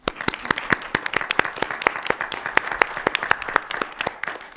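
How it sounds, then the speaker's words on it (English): Applause from the audience at a law symposium, a modest crowd clapping with distinct, individually audible sharp claps in an uneven but continuous patter. "round of applause for Albert."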